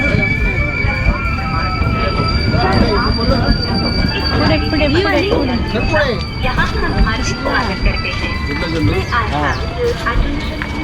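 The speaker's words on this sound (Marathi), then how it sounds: "चढतो आम्ही ट्रेनमध्ये चढतो आता चलो" Train clatter and rumble fill the scene on the Malvan to Goa route, with many people talking and calling out loudly over it while boarding.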